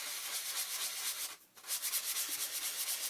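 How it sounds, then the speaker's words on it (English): Steady rough sandpaper scratching across a stiff artist's trading card in quick back-and-forth strokes, close and continuous, with a brief pause midway. "start sanding off and roughing up the surface a little so it will have some tooth"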